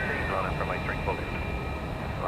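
A Boeing 787-9 departing Sydney Airport gives a steady, distant jet roar under a constant hiss, with faint chirping tones drifting across it.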